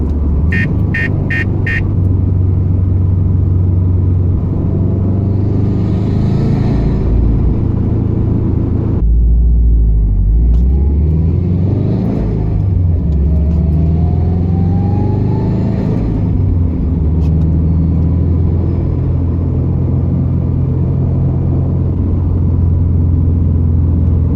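A 2012 Subaru WRX hatchback with a Greddy Supreme SP exhaust drones loudly up close, then drops briefly on a downshift from fourth to third before revving up again with rising pitch, a continuous rumbling interior sound.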